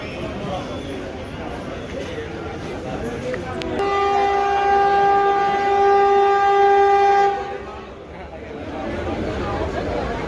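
A crowded passenger train rolls along under continuous rumble and chatter, and a loud, steady horn blares for several seconds mid-clip before fading back into the rattling wagon noise.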